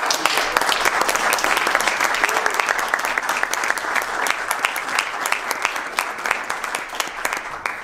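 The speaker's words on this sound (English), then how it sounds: "Can we give a, a round of applause?" A jazz small-ensemble audience applauds steadily, dense clapping filling the room at an even level throughout, with a few voices mixed in.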